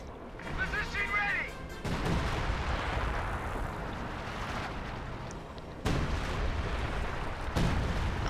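An artillery barrage in Company of Heroes 2: a dense, continuous rumble of heavy guns with sudden booming onsets every few seconds, loud and sustained, while someone talks over it.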